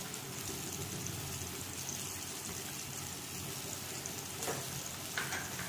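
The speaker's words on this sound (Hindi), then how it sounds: "करते हैं हम फ्राई और हल्का सा ब्राउन होने तक इसको फ्राई करेंगे।" Finely chopped garlic, three to four cloves, frying in a pan for a dhaba-style tawa keema, giving a steady close sizzle throughout with a couple of brief scraping stirs near the end.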